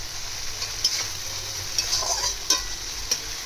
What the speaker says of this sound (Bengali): মশলাটা কষুক।